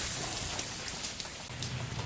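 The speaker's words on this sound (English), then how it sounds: "Still got some rain coming down." Steady rain falling outdoors on a gray day beside a grill, a continuous soft hiss with scattered drops tapping surfaces, moderately faint and without voices.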